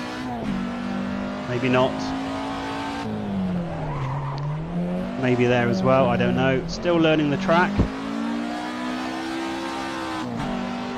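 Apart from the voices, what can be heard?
old Ford Escort car sliding around a track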